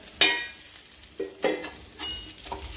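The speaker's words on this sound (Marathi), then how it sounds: "आता याच्यामध्ये आपण ही तळलेली शिमला मिरची पण टाकून घ्यायची" Fried capsicum is stirred into a sizzling masala in a pan: a few separate spoon scrapes and clinks over a quiet, faint sizzle, with no talk.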